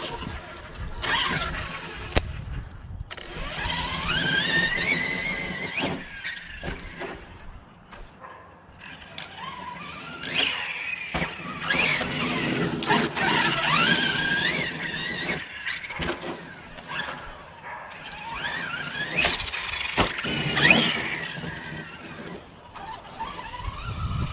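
A Redcat Kaiju RC monster truck on oversized aftermarket wheels and tires drives nearby. Its electric motor whines and revs loudly and continuously, with rough tire and chassis noise rising and falling in bursts.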